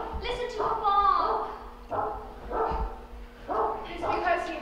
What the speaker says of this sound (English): Listen to her bark.